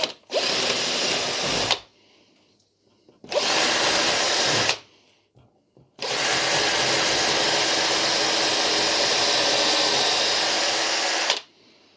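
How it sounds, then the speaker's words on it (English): A power drill whirs loudly in three bursts, two short and one long sustained run, with brief quiet gaps between them, drilling mounting holes for a model railway point motor. "So we'll just drill these holes now."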